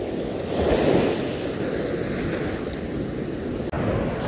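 Sea waves washing onto the shore on a calm, windless day at a fishing spot, a steady broad roar of surf heard close and continuous, swelling slightly near the start.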